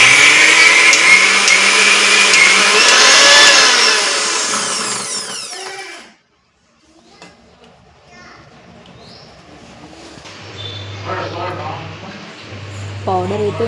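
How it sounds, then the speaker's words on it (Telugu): A mixer grinder whirs loudly, grinding sesame seeds and flour into powder for garjelu, a Telugu festive sweet, then cuts off, and after a short silence someone speaks over faint background noise. "మొత్తాన్ని మళ్ళీ ఇంకోసారి మిక్సీ అయితే పట్టుకోవాలి"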